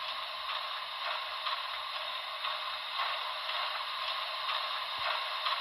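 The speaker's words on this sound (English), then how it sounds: "Coupler sound." Mechanical clanking and ratcheting from an HO scale BLI NYC Commodore Vanderbilt Hudson sound decoder, steady and close with small repeated clicks throughout.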